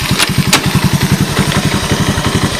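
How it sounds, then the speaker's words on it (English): A Honda TRX125 ATV pulled from a scrap yard idles close by, its small single-cylinder engine thumping in a quick, even rhythm, with a couple of brief clicks early on. "The engine sounds like it's in fine shape."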